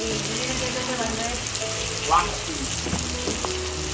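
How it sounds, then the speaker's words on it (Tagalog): Vegetables sautéing in a pan, a steady sizzle and fry running throughout with a brief louder hiss midway and light stirring clinks, close and continuous. "Gisa muna tayo ng ating gulay"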